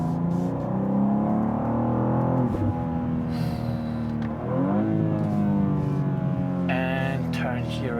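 A 2023 BMW M2 G87 accelerates hard on a driving course, its engine note climbing in repeated revving sweeps through the gears, heard loud and steady from inside the car, with a voice briefly breaking in.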